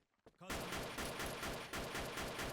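Rapid pistol fire in the online shooter WolfTeam rattles out as a loud, continuous burst of repeated shots after a brief quiet moment.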